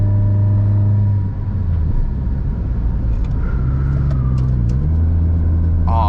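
A Toyota Corolla cruises along a newly paved countryside road, its steady engine rumble and tyre roar close and continuous, with a brief dip and a slight rise in pitch as it accelerates.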